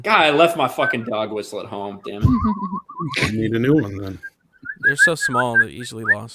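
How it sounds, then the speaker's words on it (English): A person whistles a short wavering tune between bursts of conversation, with several voices talking over and around it. "Do you guys keep hearing whistles?"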